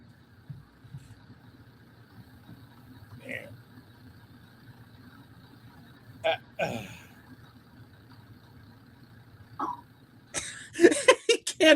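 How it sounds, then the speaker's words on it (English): Several scattered coughs after drinking Hennessy banana cognac, some single and some in quick clusters, over a low engine hum, ending in a louder burst of coughing. "He can't drink it without coughing."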